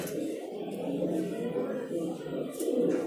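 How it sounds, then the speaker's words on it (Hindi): Pigeons in a Delhi pigeon shop coo in low, soft, repeated burbles, a close steady chorus with faint background noises. "एक ये कबूतर देखिए"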